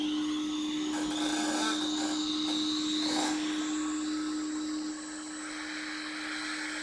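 A heat gun blows steadily on a Nintendo Switch charging port during a repair, a constant close whirring roar with a high fan whine that drops slightly in level partway through; no talking.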